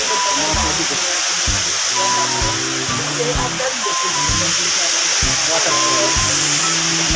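The Mahencha waterfall at Mayao, Ifugao, gives off a constant, broad rushing roar that never lets up. Voices talk intermittently over the continuous water noise.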